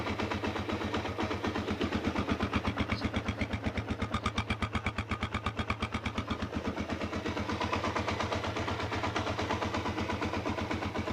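A 1994 Suzuki DR650 motorcycle idles quietly nearby, a steady, even thumping pulse that holds without revving.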